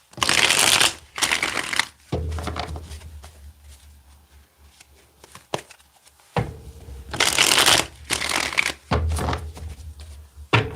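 Tarot cards are shuffled in several loud, crisp riffling bursts close by, separated by quieter handling and near-silent pauses.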